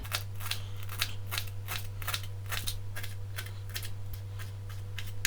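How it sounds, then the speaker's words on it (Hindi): Fenugreek, spinach, coriander and green chillies are chopped for kadhi in a steady run of crisp, evenly spaced cuts, close and clear over a constant low hum. "तो ये सारी सब्जियां जो हैं, मेथी, पालक, ये धनिया और ये मिर्चें, सब्ज मिर्चें वगैरह, ये सारी मैं काट लूंगी।"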